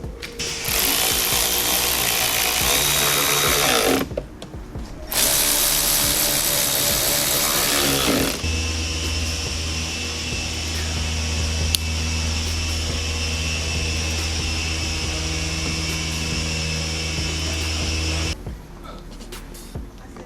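A power tool drives a screw into a 2014-2019 Corvette C7 tail light: a loud, close, steady whirring in two bursts with a short pause between, followed by a longer lower-pitched sustained drone.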